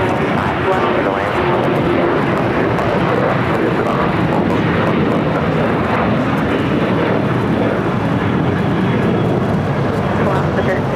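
A Nippon Cargo Boeing 747-8 freighter arriving from Miami touches down on runway 25 left at LAX, its engines a loud, close, steady roar that fills the whole stretch without letup.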